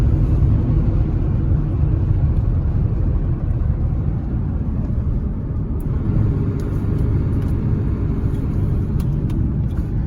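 A 1996 Ford F350 with a 7.3L PowerStroke turbo diesel rumbles steadily from inside the cab as it drives in traffic, loud and continuous with no speech.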